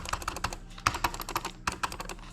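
Quick, uneven bursts of typing on a cheap, janky computer keyboard at a basic PC setup, crisp key clicks in short clusters with brief pauses, close and alone.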